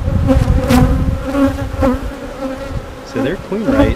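Honeybees buzz loudly around an open hive during an inspection, a dense droning hum with individual bees swooping close past.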